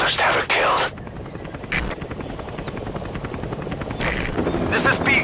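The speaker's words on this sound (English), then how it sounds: "I'll send the extraction chopper." An extraction helicopter in Metal Gear Solid V: The Phantom Pain arrives with a steady thudding rotor chop beneath the in-game sound mix, punctuated by short loud bursts.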